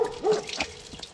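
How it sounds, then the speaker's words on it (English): A natural water spring trickles and gurgles nearby near Lukomir, Bosnia, in a steady, splashy flow with small bubbling bursts, with no one talking. "Water spring."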